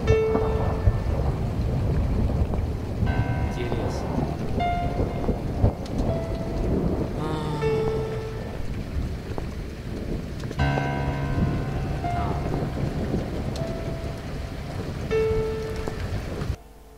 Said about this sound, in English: I think there's a big storm coming.